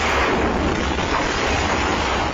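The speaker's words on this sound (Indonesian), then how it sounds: "Rekaman CCTV rumah memperlihatkan dahsyatnya ledakan yang menghancurkan bangunan dan merusak sejumlah kendaraan" Gas leak explosion tearing apart a three-storey house in Medan, captured on home CCTV: a continuous loud roaring rumble of blast and debris filling the whole stretch, with no voices.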